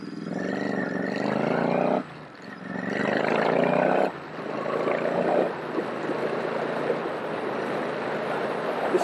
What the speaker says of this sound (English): I'm out on the Enfield 650 Interceptor